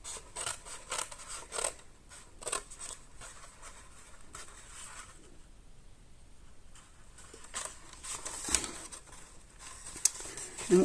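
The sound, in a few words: scissors cutting paper for a gift box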